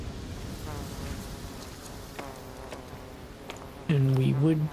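Bees hum and drone in the survival game Aloft, a thin, wavering buzz that comes and goes at a distance before a louder, closer burst near the end, with a voice talking over it.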